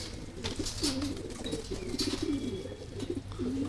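Pigeons in a loft give soft, repeated low coos in a quiet, rhythmic series, faint and steady with a few light chirps and faint background noise.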